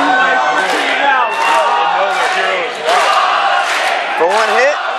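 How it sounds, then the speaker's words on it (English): A boxing crowd at an OPBF welterweight championship fight roaring and cheering in surging waves, loud shouts and yells rising and falling across the arena. "they cheering at the wrong time because they ain't supposed to cheer when they sitting there"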